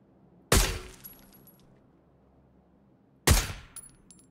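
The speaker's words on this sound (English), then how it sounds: "I'll go ahead and test fire as well" Two test shots from a scoped gun in PUBG, each a loud, sharp crack with a short ringing tail, spaced about three seconds apart over near silence.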